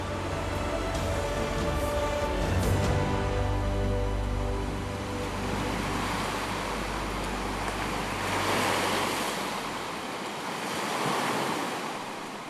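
Sea waves roll and break steadily on a shore, a broad continuous wash that swells and recedes in slow surges, with wind buffeting the microphone and no voices.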